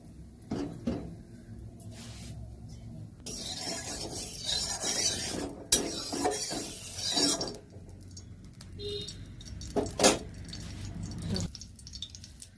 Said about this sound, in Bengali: ভালো করে মাখিয়ে নিচ্ছি সবগুলো দিয়ে